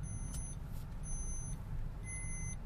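A 2023 Toyota Rumion's seat belt warning chimes sound in three short bursts of high, thin beeps over the steady low drone of the car cruising on a highway.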